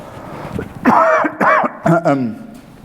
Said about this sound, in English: excuse me, about to cough